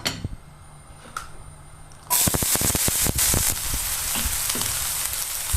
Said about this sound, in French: Donc là maintenant je rôtis les crevettes.